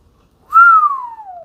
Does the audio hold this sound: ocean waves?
no